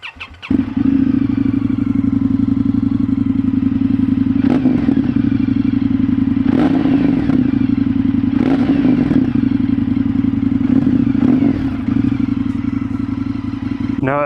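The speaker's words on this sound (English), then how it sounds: "Here's a cold start." An Indian FTR1200 motorcycle with an aftermarket slip-on exhaust cold-starts and settles into a loud, steady, rumbling idle close to the microphone, with several brief revs and clattering surges.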